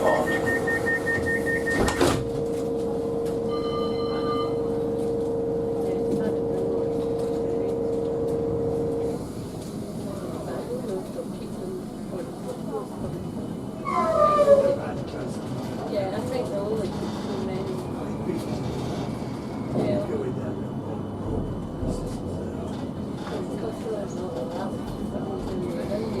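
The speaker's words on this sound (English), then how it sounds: "Please hold tight. This tram is about to depart." A Birmingham Metro tram at the Corporation Street stop gives a door-closing chime and beeps, then pulls away with a low rolling rumble and rattles. A voice is heard over the sound.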